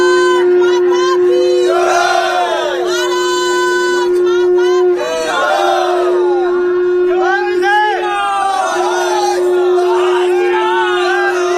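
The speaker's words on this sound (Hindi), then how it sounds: "ये भीड़ और ये शोर और ये शंखनाद।" Loud, continuous crowd noise at a swearing-in ceremony in West Bengal, with shouting and chanting voices and a sustained conch-like tone running throughout, dense and close.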